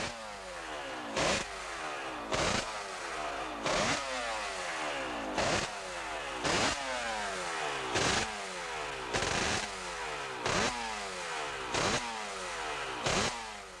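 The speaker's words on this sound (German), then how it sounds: "Hier Graziano Rossi mit seiner Morbidelli." A Morbidelli racing motorcycle at the 1981 German Grand Prix howls through repeated rising gear-change sweeps, each run of revs climbing sharply and then breaking off in a brief burst, about ten cycles in a row, loud and close with no talk.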